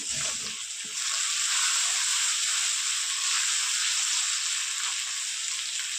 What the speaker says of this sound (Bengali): ভালো করে কষিয়ে নেবো, যতক্ষণ আদা রসুনের কাঁচা গন্ধটা না যাবে ততক্ষণ কষাতে থাকবে।